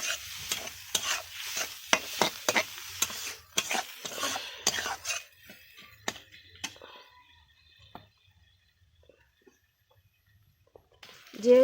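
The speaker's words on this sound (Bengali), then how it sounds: "এবার আমি মুসুর ডালটা দিয়ে দেবো। 100 গ্রাম মুসুর ডাল হালকাভাবে সিদ্ধ করে রেখেছিলাম, দিয়ে দিলাম।" Lightly boiled red lentils tipped into a pan and stirred, giving a run of close scraping, clicking stirs over a soft sizzle that tapers off into near quiet.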